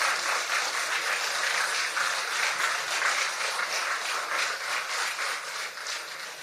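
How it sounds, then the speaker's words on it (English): A room of people applauds at a literary science fiction event after winners and runners-up are congratulated: steady, even clapping of moderate loudness that holds for several seconds with no speech over it. "Big round of applause for that"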